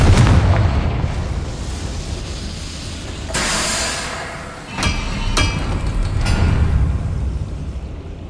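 A Confringo fire spell explodes in the Hogwarts Legacy video game: loud rumbling booms with a few sharp bangs and bursts over a continuous low roar.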